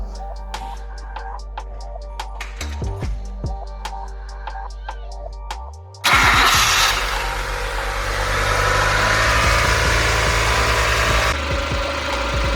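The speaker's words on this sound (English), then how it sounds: "We're just going to turn the car on now to bleed it" A car engine started to bleed the cooling system after new radiator hoses and coolant, turning over and catching midway, then settling into a steady, close idle hum.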